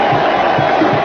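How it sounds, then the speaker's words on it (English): A baseball crowd at Shea Stadium during a 2000 playoff game roars and cheers, a dense, loud wash of many voices that holds steady through a brief moment. "the cheers are for Benny Agbayani."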